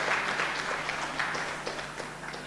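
Applause from members of parliament in the August House honoring teachers, a steady wash of many hands clapping at moderate distance throughout.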